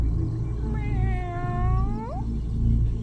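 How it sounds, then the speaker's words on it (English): Kitten meowing softly, one drawn-out wavering meow that rises sharply at the end, heard close over a low, steady background hum. "It was a soft meow."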